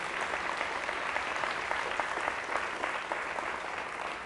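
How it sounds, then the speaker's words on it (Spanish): Steady applause from a church congregation honoring Jesus at a Catholic service, a dense continuous patter of many hands clapping at an even level throughout, with no voices standing out. "Fuertes aplausos al Señor Jesús"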